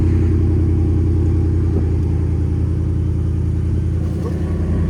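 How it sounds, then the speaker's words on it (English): A 5.0L V8 Ford F-150 idles with its exhaust cutout closed, a deep, steady rumble close by, low and even throughout, with no talking. "So this is with the exhaust cutout closed"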